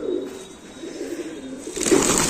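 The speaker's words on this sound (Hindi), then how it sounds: "तो दोस्तों ये कबूतर हैं फहद भाई के ब्रीडर और आपको शौक कराएंगे इनके शाहजहांपुरी कबूतर।" Shahjahanpuri pigeons at a breeder's loft give low, soft coos up close, with a brief flutter or rustle near the end.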